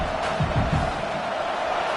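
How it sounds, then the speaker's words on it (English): A packed football stadium roars during a Georgia vs Oklahoma college game: a loud, steady wall of crowd noise that holds for the full two seconds, with scattered individual shouts rising above it. "This crowd, full throat, splitting the eardrums and letting them know it's going to be a long day."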